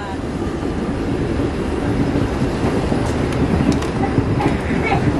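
Steady loud rumble and rattle of a local train on the Delhi to Shamli line, a dense continuous roar throughout with no clear approach build, brief squeaks near the end.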